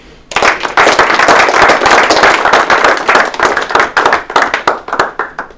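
Basketball team applause in a locker room after a game against Georgetown: a dense burst of many hands clapping together, loud and close, then thinning into scattered claps toward the end.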